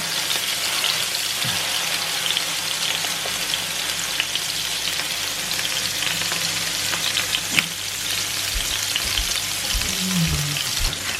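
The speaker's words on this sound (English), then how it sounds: "I'm going to put it what would have been the skin side down, as if I was cooking fish with the skin" Two large halibut fillets fry skin side down in a hot pan, giving a steady, close, even sizzle that holds throughout with faint scattered crackles.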